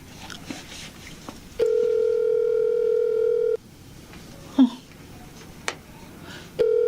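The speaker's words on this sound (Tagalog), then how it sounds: "Ring lang ng ring." A telephone ring tone sounds in long steady bursts, two separate rings with a pause between them and a third starting, with faint handling noises and clicks in the gaps and no one answering.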